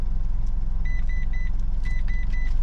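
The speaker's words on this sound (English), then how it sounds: "I haven't even stopped the engine." A car engine idles steadily and close by, its low rumble continuous throughout, while two sets of three short electronic beeps sound over it, like a dashboard warning chime.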